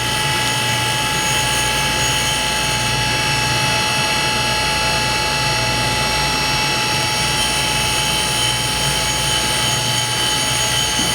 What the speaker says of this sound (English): We're just barely skimming this wheel because it doesn't need much.